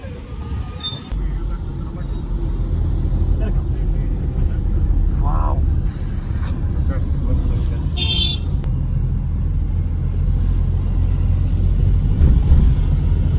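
Stalled road traffic near a Datta temple in Narayanpur on Guru Purnima, with a crowd about: a loud constant engine rumble with a couple of short horn toots, while people talk over it.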